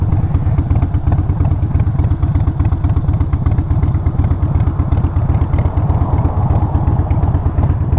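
A Harley-Davidson Sportster motorcycle engine runs close and loud at a steady idle, with a continuous deep, lumpy rumble and a mechanical clatter that hardly changes.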